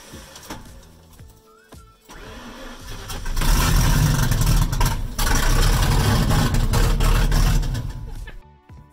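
A 460 big block engine cranking on its starter with starter fluid, quiet clicks and handling noise first, then a loud, sustained rhythmic churning crank for about five seconds that fades at the end.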